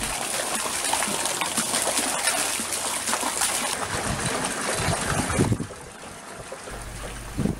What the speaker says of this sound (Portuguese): Agora já estou a utilizar a bicicleta e a puxar água